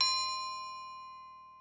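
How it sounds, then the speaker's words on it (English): A triangle sample tuned in a sampler and played as a single bell-like note: one clear metallic ding that rings on steadily, decaying slowly over more than a second, heard alone. "or I could use it like a single bell"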